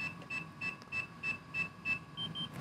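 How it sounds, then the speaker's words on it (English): FPV drone goggles emitting a faint run of short, evenly spaced electronic beeps, about eight in quick succession, over low background noise. "Push that, you're gonna listen for the beep."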